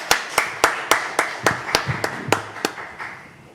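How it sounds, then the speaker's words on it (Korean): A church congregation claps during a Sunday morning service, about a dozen distinct claps in a slow, slightly uneven rhythm, close and fairly loud with no talk. "영광 박수 올려드립니다."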